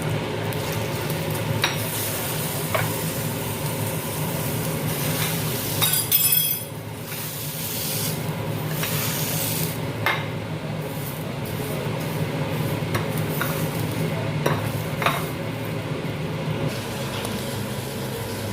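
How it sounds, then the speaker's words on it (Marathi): A tadka tempering sizzles in a pan for a cucumber-tomato salad, giving a steady low crackle and hiss with scattered clinks of utensils against metal throughout. "बघा छान तडका दिलेला आहे"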